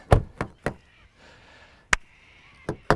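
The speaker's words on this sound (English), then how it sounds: "holding the door handle up when I close this door" A few sharp knocks and thuds of a 2020 Subaru Outback car door being handled and shut, spaced irregularly, with a faint rustle in between.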